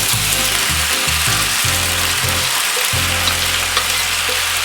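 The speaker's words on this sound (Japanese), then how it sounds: "ここに先ほどの炒めた野菜と肉を入れていきます" Stir-fried vegetables and meat for homemade sauce yakisoba sizzle loudly in a pan, a dense continuous crackle with an underlying rhythmic low rumble throughout.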